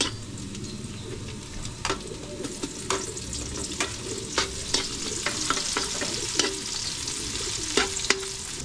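Ginger frying in a pan until golden brown, a continuous close sizzle with sharp scraping strokes as it is stirred at irregular intervals.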